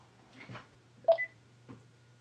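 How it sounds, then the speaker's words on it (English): A telephone sounds during an indoor interview as a few short, fairly quiet electronic tones spaced over two seconds, over a low steady hum. "Oh, look, it's the phone."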